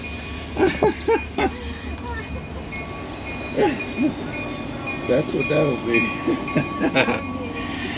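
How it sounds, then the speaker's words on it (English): A train rumbles past close by, a steady low clatter under intermittent conversation from people nearby. "And that would be the train right next door."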